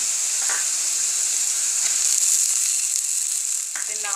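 Tomatoes hitting a pan of fried onions and ginger in a home-cooked potato, carrot and pea sabzi give a steady, loud, close sizzle, with a few light stirring scrapes near the end.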